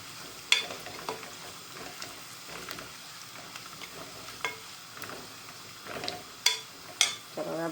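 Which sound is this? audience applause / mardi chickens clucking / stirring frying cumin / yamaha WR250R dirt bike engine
stirring frying cumin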